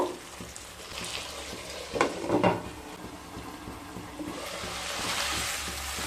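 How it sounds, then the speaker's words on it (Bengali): Boiled potatoes sautéed with spices in a pan over medium-low heat for aloo dum, a soft continuous frying hiss with a couple of louder stirring scrapes midway, no voices. "মশলার সাথে আলুগুলোকে খুব ভালোভাবে মিশিয়ে নিচ্ছি মিশিয়ে নিয়ে আবারও মিডিয়াম টু লো স্টিমে এক থেকে দেড় মিনিট কষিয়ে নেব"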